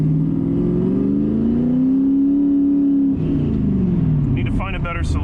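A Ford Ranger with a 331 engine accelerates on the road, a loud, steady engine drone rising in pitch, then easing off before a second surge, close up.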